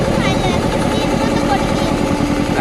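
A ferry boat engine runs steadily after departure on a river crossing in the Sundarbans, a close, loud throbbing drone heard continuously throughout.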